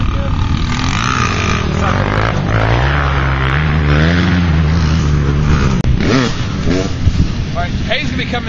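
A KTM dirt bike's engine drones loud and close as it is ridden through a corner, pitch sweeping up and down with throttle changes over about eight seconds, with someone talking over it.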